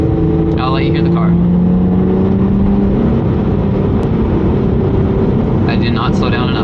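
A Lotus Evora GT sports car engine hums steadily while driving, a smooth continuous drone with gentle pitch changes, heard from inside the car with brief talk at the start and end.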